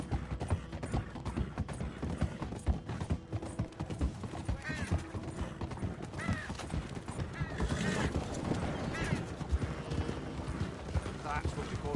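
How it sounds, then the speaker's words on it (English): Horse hooves clip-clop steadily in Red Dead Redemption 2 with a brief whinny, while a voice talks over the game sounds. "That's what you call a prize-winning horse"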